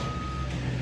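Reversing beeps from a truck working on a neighbour's drain installation sound as a steady high tone over a constant low engine rumble, loud and continuous through the brief moment.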